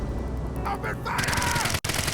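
Rapid automatic gunfire crackles in the AI: The Somnium Files nirvanA Initiative video game, a dense burst following a brief raised voice and running for about a second before cutting off abruptly.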